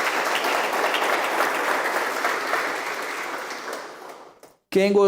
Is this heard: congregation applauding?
yes